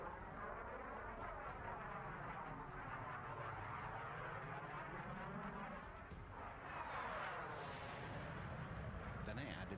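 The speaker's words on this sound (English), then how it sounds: "here's the jet sounds on their own." A jet aircraft flyby at the London Air Show, a continuous loud roar that swells and sweeps as the plane passes, with a rising whine near the end.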